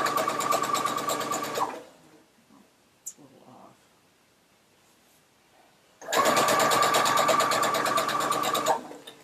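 A sewing machine stitches a quilt seam in two loud, steady runs of rapid needle chatter separated by a few seconds of quiet handling sounds.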